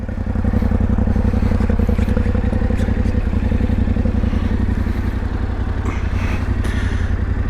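A 2025 Yamaha Tenere 700 motorcycle being ridden, its engine a steady loud rumble with wind buffeting and rattling throughout, no speech over it.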